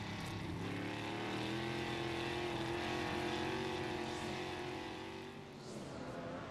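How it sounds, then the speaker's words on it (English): USAC Silver Crown race cars at the 2003 Hoosier Hundred roar steadily off the corner, tires smoking and breaking loose, a dense sustained engine drone with overlapping harmonic whines rising and falling as the field passes, loud and continuous. "They're smoking the tires, actually busting them loose coming off the corner."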